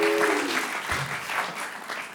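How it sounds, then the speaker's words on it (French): A television studio audience claps loudly, a short burst of dense applause that holds steady throughout, with a brief voice at the start. "Applaudissements pour Jospin."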